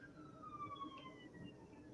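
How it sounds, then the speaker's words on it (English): Emergency vehicle sirens wail faintly in the distance outside, the rising and falling tones drifting under a quiet indoor room. "And then you can hear these sirens, unfortunately."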